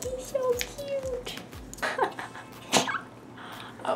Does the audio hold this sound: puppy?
yes